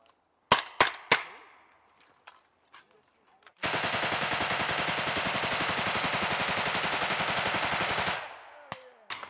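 Machine gun firing a sustained burst of about four and a half seconds during squad tactical training, loud and rapid, preceded and followed by scattered single shots.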